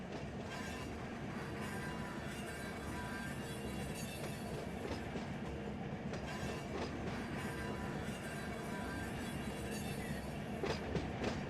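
A long freight train rolls steadily in the Run8 train simulator, with continuous wheel and rail rumble, faint clickety-clack and occasional wheel squeal, loud and close throughout.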